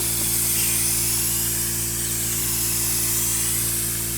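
Silver spray paint hisses continuously from a spray gun onto a 1964 Dodge Polara 500 in a steady, close, loud rush, with a constant low compressor hum beneath it and no talking.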